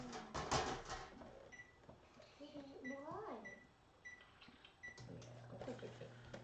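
A home kitchen oven preheating to 350 degrees gives several short, high electronic beeps, faint and scattered under someone talking.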